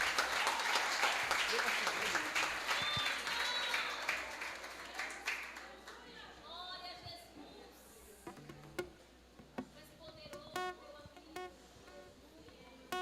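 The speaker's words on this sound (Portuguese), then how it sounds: "com palmas para o Senhor Jesus" Church congregation applauding as the pastor is welcomed, loud dense clapping that thins and fades over several seconds, leaving scattered claps, voices and faint noises in the room.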